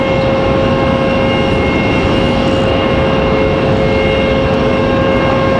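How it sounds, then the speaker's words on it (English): Air France airliner taking off from the runway at Raleigh-Durham airport, a loud, steady jet engine roar with a constant whine, filling the whole stretch with no talking. "Then we'll swing around for our Air France departure."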